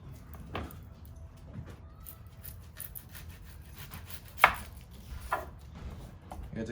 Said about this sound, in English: So we're gonna cut the onions.